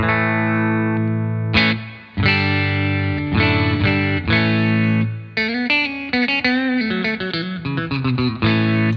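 Clean electric guitar chords ring out through a Super Reverb amp model on a Tonex One pedal, with sustained strums followed by a quicker run of picked notes.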